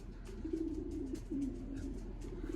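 A racing pigeon landing at its home loft after a 290 km race from Morlincourt, France, giving a steady, low, throaty cooing drone that continues at a faint, even level throughout.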